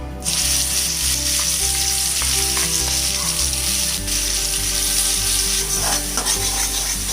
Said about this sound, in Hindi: ये आपको अच्छे से फ्राई करना है। लो फ्लेम में ही फ्राई करना है।